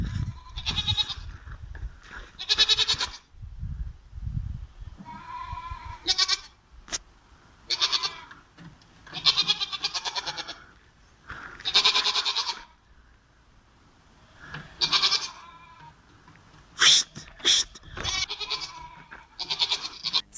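A goat on a construction scaffold bleats in scattered short bursts, some loud and close, with gaps of quiet and faint background noise between calls.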